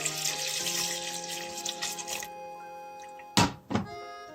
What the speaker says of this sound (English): so I'll keep adding more milk.